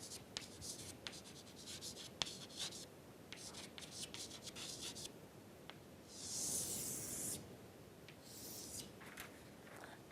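A pen writing on paper, quiet scratchy strokes in short bursts with brief pauses, plus a soft rubbing swish near the end.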